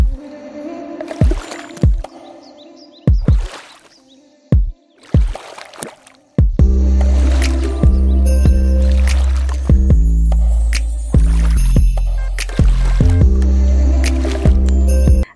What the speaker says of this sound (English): The water was calm and we gently paddled along the thick mangrove vegetation that surrounded the bay.